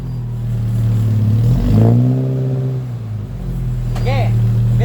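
Car engine revving with a newly mounted muffler at a muffler shop in Muntinlupa: a steady loud idle rises into one rev around the middle and settles back, with a brief voice near the end.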